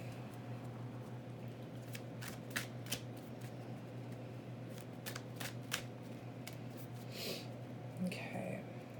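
Tarot cards shuffled by hand, repeated crisp riffling and flicking bursts over a steady low hum, close up, with soft talking in the background.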